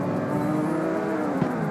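Several street-racing cars idle and rev together at the start line in CarX Street, a steady layered engine drone with a humming low tone and a small rev spike near the end, close and constant.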